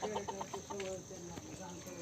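Hens clucking in short repeated bursts at close range, steady and fairly loud, with a voice talking over the birds.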